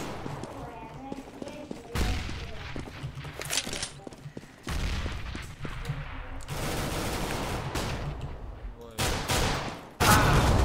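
Rapid gunfire bursts from Counter-Strike: Global Offensive on the Inferno map, loud and repeated in clusters with explosive booms, with players talking over the action.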